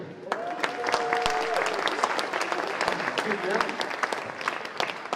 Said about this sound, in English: Ladies and gentlemen, big applause for Biblian.